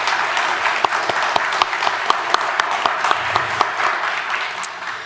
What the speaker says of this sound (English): Please give a round of applause for Mika.